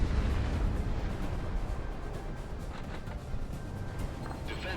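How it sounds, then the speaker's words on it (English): A missile strike explosion in Project Wingman rumbles as a low, rolling boom that fades into a steady muffled roar, moderately loud, with no voices over it. "Missile is on the way. Missile is tracking."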